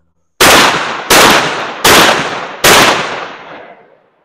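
Four loud 16 gauge shotgun blasts firing Sterling Tornado slugs indoors in quick succession, each a sharp crack with a decaying echo tail, evenly spaced under a second apart.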